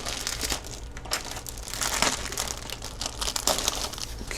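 Plastic bags holding parts of a Kitty Hawk 1/35 SH-60B model kit being cut and pulled open, giving close, continuous crinkling and rustling with a few sharper crackles, no talk.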